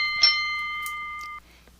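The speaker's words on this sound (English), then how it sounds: "waiting for the bell to start round 2" A boxing ring bell rings once to start round 2, a single bright struck tone with a sharp attack and a clean ring that sustains a little over a second before stopping abruptly.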